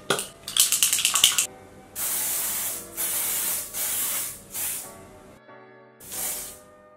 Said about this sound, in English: For the finishing touch, Dior Air Flash Radiance Mist.